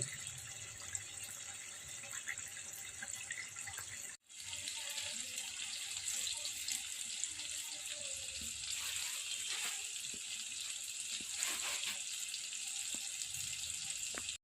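Palm fruit fritters (taler bora) frying in hot oil, a steady dense sizzle that runs throughout, with a brief dropout near the start and some clinks and stirring over the crackle.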